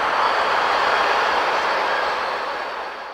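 An NYS&W Susquehanna freight train hauling boxcars rolls past in a loud, steady rumbling roar that fades slightly toward the end, with no voices.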